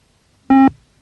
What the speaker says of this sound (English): Guys, you have to cross the pylon before the beep.